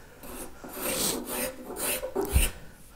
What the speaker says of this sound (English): So to scrape out most of the jagged surface greatly reduces that sanding time.